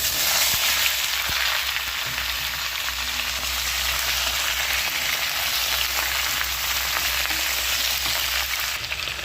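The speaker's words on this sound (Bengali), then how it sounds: "শুক্তোর আনাজ ভালো করে ভাজতে হবে।" Potato, eggplant, green banana and papaya fry in hot oil for Bengali shukto, with a constant loud sizzle and occasional soft taps of a spatula, steady throughout.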